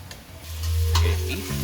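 White onions fry and caramelize in a pan for Korean beef curry, a soft sizzle over a loud low hum, with a brief stirring scrape in the middle.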